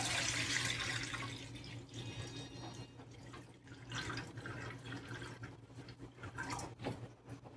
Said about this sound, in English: Fill this pan halfway with water.